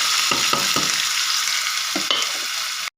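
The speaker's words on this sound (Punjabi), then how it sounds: "ਤੇ ਹੁਣ ਆਪਾਂ ਪਾਵਾਂਗੇ ਪਿਆਜ਼" Chopped onions frying with whole spices in a pan for Punjabi kadhi, a steady close sizzle with a few brief stirring scrapes, ending abruptly.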